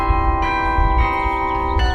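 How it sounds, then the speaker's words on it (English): Large carillon bells, played from a keyboard, ring from a tower holding 65 bells ranging from 20 to 12,000 pounds, sustained and resonant, with fresh strikes layering over the lingering hum. "a carillon is a keyboard instrument, and it plays bells"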